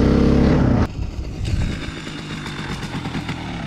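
An XT450 enduro motorcycle engine roars loudly and close for under a second, then drops to a steadier, quieter running note with rhythmic pulsing.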